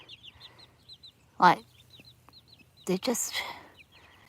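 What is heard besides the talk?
young chickens clucking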